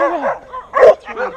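Dogs bark and yip nearby outdoors in a short cluster of sharp calls, with a voice talking among them.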